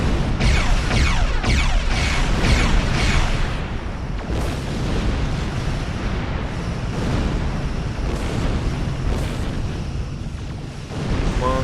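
Weapons fire and explosions from a Star Trek Online space battle against Klingons, a dense, continuous barrage of booms and bursts with sharp blasts in the first few seconds, steady and loud throughout with no talk.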